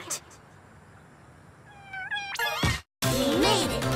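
A cartoonish cat meows in WarioWare Move It, a rising pitched call arriving after quiet game sounds, followed by a brief silence and then bright, busy musical jingles.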